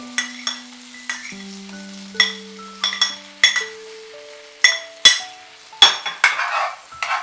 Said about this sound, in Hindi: बटर को पूरे पैन में फैला लीजिए इस तरीके से और ये कटे हुए ब्रेड क्रम्स को इसमें